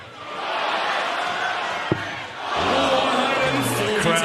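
A darts crowd at the 2017 Unibet Masters final, van Gerwen against Anderson, swells into loud cheering and whooping after a quieter murmur and a single sharp thud.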